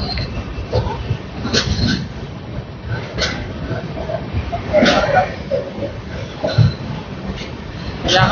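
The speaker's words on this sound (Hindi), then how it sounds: "बाकी हमारी ट्रेन देखिए राजनांदगांव की तरफ बढ़ रही है।" Jnaneswari Express passenger train running between Nagpur and Kharagpur near Dongargarh, a steady rumbling ride with occasional clicks and knocks, heard from inside the coach with people talking over it.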